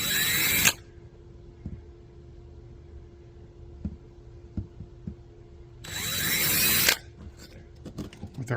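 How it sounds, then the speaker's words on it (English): A handheld power drill with a 1/8 inch bit whines in two short bursts, about a second each, boring holes in aluminum on a Ford Econoline van during a brake light leak repair, with quiet taps and handling noise between. "our 1/8 inch drill bit"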